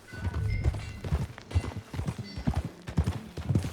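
Rhythmic hoofbeats of a horse in the video game Red Dead Redemption 2 clop steadily at a trot, fairly close, with a low rumble of movement beneath and no talking.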